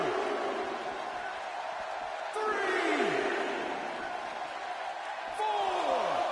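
A sold-out crowd at a TNA Hardcore Justice wrestling event roars and whoops continuously, with swells of louder cheering around the middle and end, dense and close, while a commentator talks over the noise.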